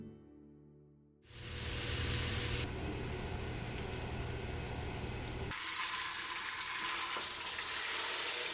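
Butter chicken frying in a home kitchen pan, a steady loud sizzle that begins abruptly after a brief quiet start and keeps going with a shift in texture partway through.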